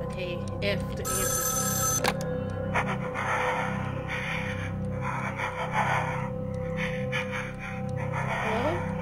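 Telephone rings in the horror video game Evil Inside, a bright electronic bell burst near the start and again shortly after, over a tense droning ambience with heavy breathing and a voice talking.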